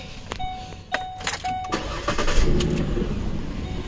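A 2006 Ford Explorer with a 4.0L engine, fitted with a new alternator and showing a battery light, cranks with a few sharp pulses and then catches, settling into a steady running rumble nearby.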